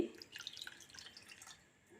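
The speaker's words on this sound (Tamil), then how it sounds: "இதில் கொஞ்சமாக தண்ணி ஊற்றி அலசி" A small splash of water is poured into a cooking vessel and swirled to rinse it while preparing karupatti halwa, giving soft, close trickling and dripping sounds that fade away within about two seconds.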